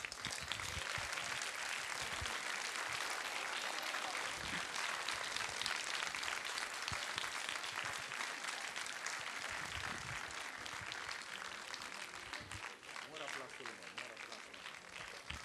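A concert audience at a music event claps in sustained, dense applause that fills the whole stretch evenly at steady loudness, with some voices mixed into the crowd noise.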